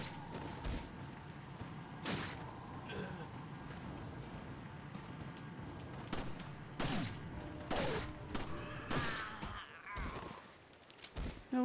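Gunfire in the Resident Evil 4 video game: scattered sharp shots ring out at irregular intervals over a murky background of game ambience, fairly faint overall with a few louder bursts near the end.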